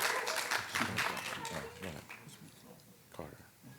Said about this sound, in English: So let's give him a nice round of applause as well